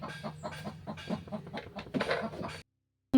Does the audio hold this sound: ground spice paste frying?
no